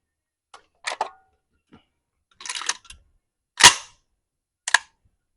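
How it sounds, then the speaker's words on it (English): A .308 Galil rifle firing at a 600-yard range, heard as a handful of sharp, separated reports with distinct gaps between them, fairly distant and mingled with faint clicks. "we just witnessed the 308 Galil go all the way out to 600"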